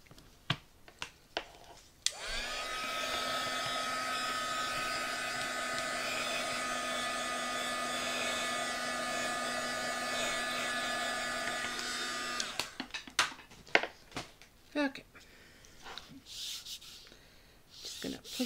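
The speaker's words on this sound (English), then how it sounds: "my dryer go. Here we go." A hair dryer switches on and blows with a steady whirring hum for about ten seconds, then cuts off, leaving scattered handling taps and rustles.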